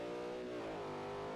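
Mercedes SLS AMG with its 6.3-liter V8 revs hard in a steady, loud, close roar with layered harmonics, holding high through the short burst with no voices.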